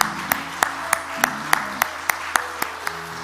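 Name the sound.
congregation applause in church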